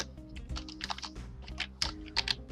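Quiet, close typing on a computer keyboard while editing text in Adobe Photoshop, a quick irregular run of soft key clicks with a few slightly louder taps.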